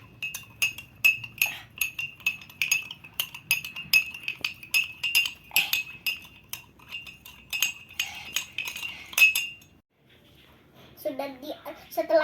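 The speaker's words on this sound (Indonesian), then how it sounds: "Lalu aduk." A spoon stirs a lime drink in a glass, giving a rapid series of bright, close clinks that go on for about ten seconds. Afterward a voice is heard briefly.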